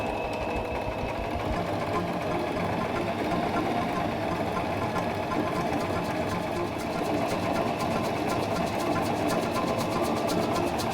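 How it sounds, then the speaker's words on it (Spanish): A Singer mechanical sewing machine stitches fabric with a steady, fast mechanical whir and rapid ticking that runs continuously at close range, with faint talk beneath it. "Coloca la tela, baja el prensatelas y comienza a coser."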